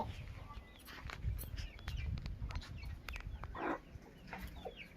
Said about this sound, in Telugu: ఆల్రెడీ పిల్లలే అరుస్తున్నాయి